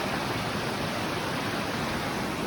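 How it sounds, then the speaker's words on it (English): A small creek flows beneath a bridge, giving a steady, close rushing wash of water that fills the whole moment with no voices. "Check out the little creek down there."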